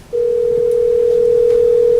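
A telephone dial tone heard while placing a call: a single steady, loud tone begins abruptly after a brief pause and holds unbroken to the end, with faint background noise underneath.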